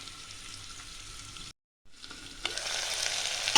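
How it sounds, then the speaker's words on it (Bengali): Potatoes dropped into hot oil in a pressure cooker, a dense close sizzle that cuts out briefly, then returns louder and brighter as the frying intensifies. "এবার তেলটা আমার ভালো করে গরম হয়ে গেছে, আমি আলুগুলো দিয়ে দেবো।"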